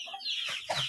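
A chicken gives a brief squawky cluck up close, with faint farmyard clucking behind it.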